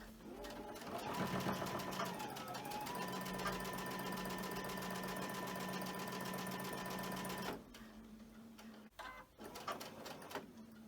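A sewing machine with blue top thread and bobbin stitches quilt pieces in a fast, steady whir that runs for several seconds, stops, then gives short bursts.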